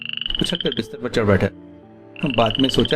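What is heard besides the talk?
frog croaking outside, sound effect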